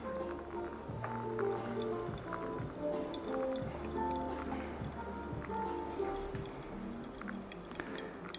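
Hot water trickles and splashes onto coffee grounds in a Hario Switch brewer during a Brewers Cup competition pour, a soft, continuous liquid stream with faint dripping, quiet and close, under low background hum.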